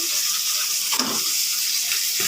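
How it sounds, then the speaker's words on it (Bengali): Marinated soybean chunks hit a hot pan and sizzle with a steady, bright hiss, with a brief soft stir or shuffle partway through. "এবার মেখে রাখা সয়াবিনগুলো দিয়ে দিচ্ছে"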